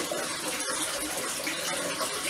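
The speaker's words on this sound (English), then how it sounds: "there's water pumping in at both sides" Water from a filter pipe gushes and splashes steadily into a fancy goldfish tank during maintenance, a constant close-up hiss and burble.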